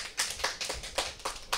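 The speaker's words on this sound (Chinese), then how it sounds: "给他们有加掌声鼓励" Applause from an audience at a Buddhist dharma lecture, heard as short rhythmic bursts of clapping, about six claps or clusters spaced roughly a quarter second apart, moderately quiet and without voices.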